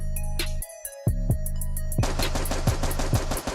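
Rapid automatic AK rifle fire from a video game rattles in loud, close bursts, starting with a few separate shots and then a sustained stream, over game music and background noise.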